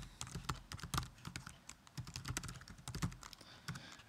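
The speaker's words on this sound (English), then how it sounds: "I can just keep typing that way" Fingers type on a computer keyboard, giving a close run of quick, uneven clicks and key taps with short pauses, heard on their own with no voices.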